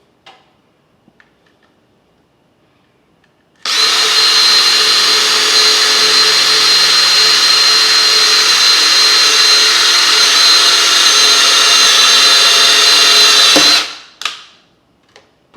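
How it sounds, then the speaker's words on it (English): Power drill boring into a wooden cabinet door for pull hardware, a single steady high-pitched whir lasting about ten seconds, loud and close, starting and stopping abruptly. "so now we're ready to actually drill."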